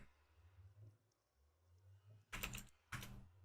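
Quiet room tone gives way to two short, close bursts of rapid computer keyboard keystrokes near the end, with no talking.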